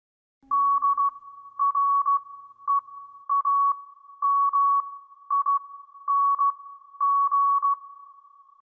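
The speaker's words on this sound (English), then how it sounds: "The video ends with a blank screen and a Morse code is heard, which can be translated to dreaming." Morse code beeps spelling out the word dreaming, a single clean tone keyed in short and long pulses with regular gaps, loud and isolated against silence.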